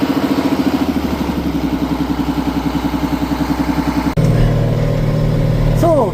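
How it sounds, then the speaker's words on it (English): A tractor engine runs close by in snowy winter conditions, its steady rhythmic chugging knocking at an even pace before the tone shifts to a louder, deeper drone near the end. "So, tractor's running"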